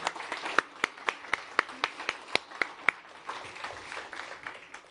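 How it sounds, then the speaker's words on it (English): Applause from the audience at a business summit, a thin scatter of distinct handclaps that fades to a quieter patter, faint and fairly distant. "Big round of applause for Rachel and Kate."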